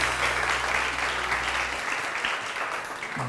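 Studio audience applauding on a televised morning talk show, a dense steady wash of clapping throughout, with a low hum underneath for the first half.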